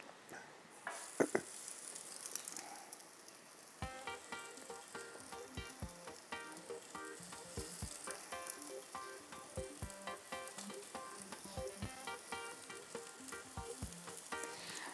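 Syrniki fry in a pan with a steady, close crackling sizzle that carries on throughout, with a faint musical background and no talking.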